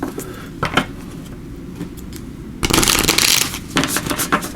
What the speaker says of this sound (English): So I'm just going to shuffle these, and these are the guardian angel cards.